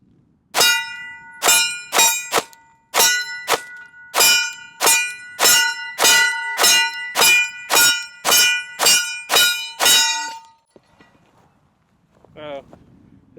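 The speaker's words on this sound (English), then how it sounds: "We'll be shooting some steel targets that are like, I don't know, 10-15 yards" Gen 3 Glock 19 pistol shots ring off steel targets about 10 to 15 yards away, a rapid string of sharp cracks each followed by a bright metallic clang, then a brief faint tone after the volley.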